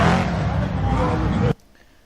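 Drift cars at LS Fest East roar with dense, loud engine and tire noise over a distant crowd, then cut off abruptly into quieter background.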